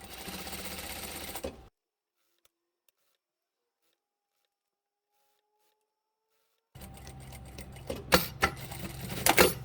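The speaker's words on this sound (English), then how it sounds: "start sewing with a back tack and continue all the way around" A sewing machine stitches a trouser hem in fast mechanical bursts, running at the start, falling silent for several seconds, then resuming with rattling clicks near the end.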